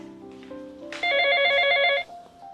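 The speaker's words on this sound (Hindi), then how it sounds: "ये फोन किसका आ गया?" Mobile phone ringing indoors with a bright, electronic warbling ringtone that swells loud for about a second before cutting off, with low background tones around it.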